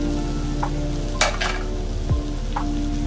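Rice stir-fried with chili sauce in a hot pan gives a loud, constant sizzle, close up, over a low steady hum, with a few sharp scrapes and clinks from the spatula and no talking.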